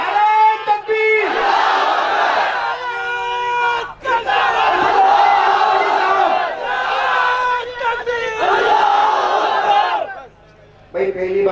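A large crowd at a religious gathering roars back in unison, answering the Nara-e-Takbir slogan with long loud chanted shouts in several waves and brief pauses between them.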